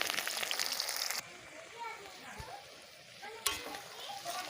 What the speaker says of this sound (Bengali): পেঁয়াজ রসুনগুলো ভালোভাবে ভেজে নেব